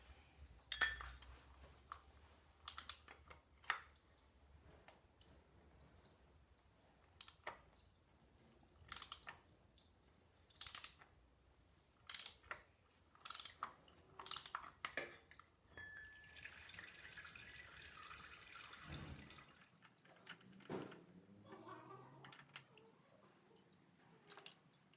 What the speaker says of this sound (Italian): Ora con una chiave apposta andiamo a rimuovere il filtro dell'olio.